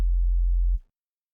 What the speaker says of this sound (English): we have a pure sine wave taken down by 2 octaves, and the filter and distortion have been removed